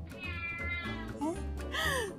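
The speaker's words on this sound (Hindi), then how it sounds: "जाके इस मनहूस बिल्ली की आवाज बंद करवा दो" A cat meows repeatedly in short, whining cries, with a person talking around the calls indoors.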